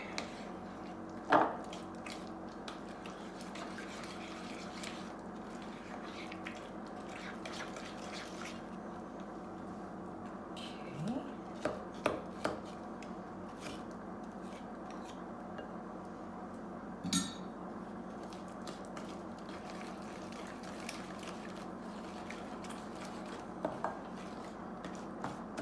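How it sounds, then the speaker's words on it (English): Butter and brown sugar are mixed for potato chip chocolate chip cookie dough in a bowl, with quiet scraping, soft squishing and occasional clinks of a utensil against the bowl, faint and intermittent. "you want to mix those right together with the brown sugar"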